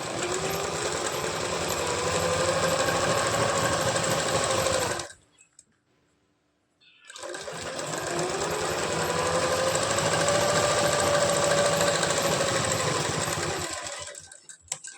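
A sewing machine runs close up, stitching along the edge of a belt blouse in two long continuous bursts of rapid needle chatter separated by a brief pause of near silence.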